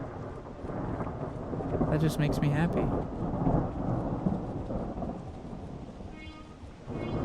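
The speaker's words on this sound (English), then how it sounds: "I actually really enjoy the sound of thunder." Rolling thunder rumbles low and steady through a rainstorm, rain hissing throughout, while a person talks briefly over it.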